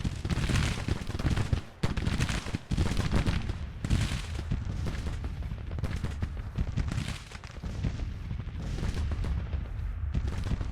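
Musket volleys and battle din from a Civil War strategy game, Grand Tactician, roll in as dense continuous crackling gunfire with heavy booming thumps, loud and unbroken across the stretch with a few brief dips.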